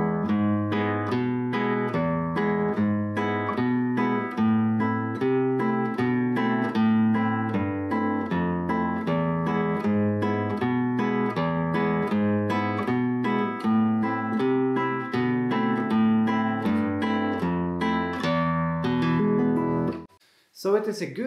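Flamenco guitar playing a Malagueña variation for beginners, alternating bass notes with chords on the treble strings, a dense steady flow of plucked notes at moderate volume that stops abruptly near the end.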